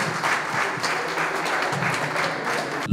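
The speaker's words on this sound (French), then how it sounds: "applaudissez s'il vous plaît." An audience at a gala evening applauds to welcome a guest, a continuous, even patter of many hands clapping at moderate loudness throughout.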